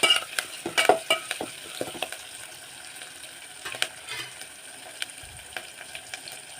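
Onion and curry leaves frying in hot oil in a pan while being stirred, with a steady sizzle broken by repeated scraping stir strokes, loudest at the start and continuing alone without talk.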